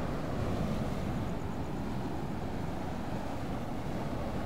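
Heavy, continuous roar of strong sea waves and wind on the coast at Sual, Pangasinan, a steady broadband rush with no pauses, close and loud.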